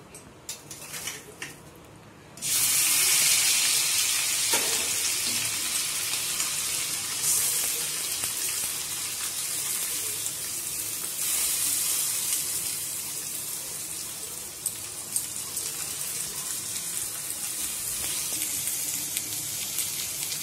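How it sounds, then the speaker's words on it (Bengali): Rice frying in hot ghee in a kitchen, a sudden loud sizzle as the grains hit the fat, then a sustained hissing crackle that eases slightly over time, close and continuous with no talking. "এই চালটা আমি একটু ঘিতে ভেজে নেবো।"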